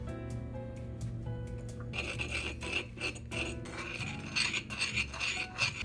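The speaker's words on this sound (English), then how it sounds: "I need a bowl with a lid. Shake this up." Edamame in sauce shaken inside a lidded bowl: rough rattling and rubbing bursts in a quick irregular rhythm, close and fairly loud, over a faint background of music.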